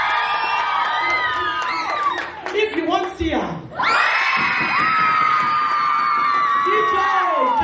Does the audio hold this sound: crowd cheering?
yes